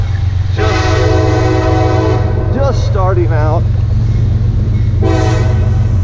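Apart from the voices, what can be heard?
train passing with horn sounding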